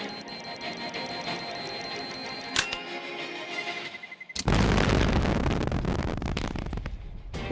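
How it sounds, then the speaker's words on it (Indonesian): During a police riot-control drill with tear gas and a panicking crowd, a sudden loud explosion bursts out after a quiet stretch and is followed by sustained roaring, crackling noise. "Kemudian tiba-tiba terjadilah ledakan."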